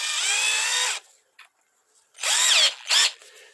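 A power drill whines loudly for about a second while working on Chevrolet C4 heater tubes, stops, then runs again in two shorter bursts, close to the microphone with near silence between.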